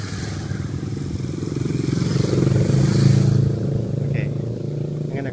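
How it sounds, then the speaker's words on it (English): Big motorcycle passing along a Japanese countryside road, its engine rumble swelling as it nears, peaking mid-way and fading as it moves off, heard from the roadside at moderate distance. "there's a big bike"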